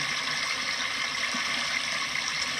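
Water from a small backyard waterfall pours steadily, a dense, constant rushing wash without pause, fairly close and alone with no voices.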